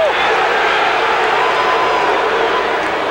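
Crowd at a 1991 Division I men's college lacrosse quarterfinal between Syracuse and Michigan State, a steady, dense roar of many voices filling the stadium throughout, loud and continuous without breaks.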